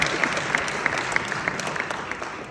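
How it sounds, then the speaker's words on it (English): Audience applause at a Python conference lightning talk, a short burst of clapping from a room of attendees that is fairly even throughout and moderately distant. "I think that's worth a round of applause."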